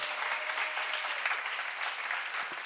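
Audience applause at a church seminar, a dense, steady wash of many hands clapping together, moderately loud and sustained throughout with no voices over it.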